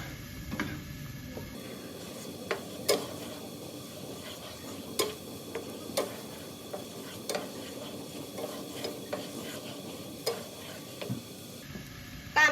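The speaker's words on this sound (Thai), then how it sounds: "พอกะทิพอหัวกะทิเขาเริ่มเดือดนะคะ เราก็ ใส่พริกแกงเขียวหวานลงไปค่ะ" Green curry paste goes into simmering coconut cream in a pan, giving a soft bubbling sizzle broken by sharp clicks and scrapes of a utensil stirring against the pan at irregular intervals.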